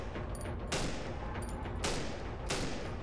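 Gunfire in the horror video game Cry of Fear: three loud, sharp shots spaced roughly a second apart over a dense rumbling background.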